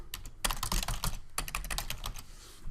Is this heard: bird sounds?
no